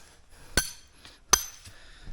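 Two sharp metallic strikes about a second apart ring out while a nest predator trap is set in spring, each a brief clink that fades quickly over a quiet background.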